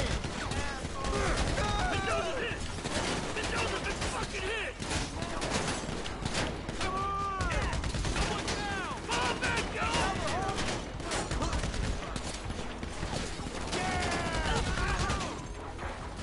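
Continuous game gunfire and crashing impacts from a PS4 shooter, steady and fairly loud, mixed with an overlapping voice and assorted chirpy game effects.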